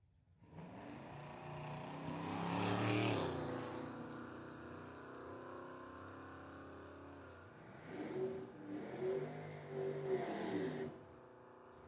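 Drag race cars, one of them a Chevy Equinox, accelerating down a dragway strip at a distance, engine roar rising to a peak, easing off, then surging again in a second burst.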